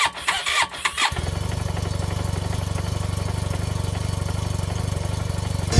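An animated scooter's engine catches after a few rough cranking bursts and settles into a steady, rattling idle that runs loud and close to the end, with no voices over it.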